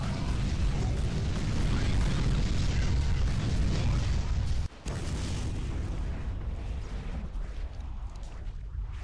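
Atomic explosions in War of the Monsters rumble as a continuous heavy, booming roar with deep low end, briefly cutting out midway before the roar returns and slowly thins.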